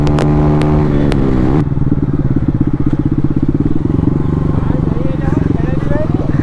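A Bajaj Pulsar N160 motorcycle fitted with a loud aftermarket exhaust, ridden on a public road, roars steadily and close for the whole stretch, its throbbing note rising after an opening rev, with a voice speaking over it.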